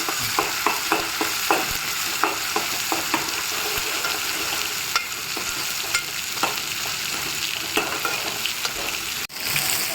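Spice paste sautéing with browned onion in a pan for a crab curry, a dense continuous sizzle broken by regular scraping stirs of a spatula, close and fairly loud.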